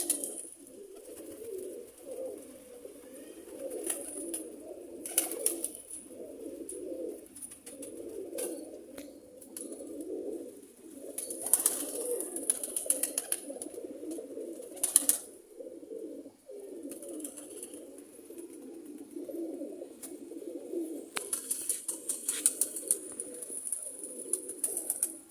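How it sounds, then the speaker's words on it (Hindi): Kasuri breed pigeons coo steadily at close range in repeated low rounded phrases, with a few brief sharp sounds breaking through now and then. "कांटों वाला मगर कबूतर है।"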